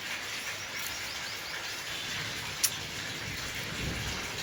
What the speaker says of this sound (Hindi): ये देखिए कभी बारिश आ रही है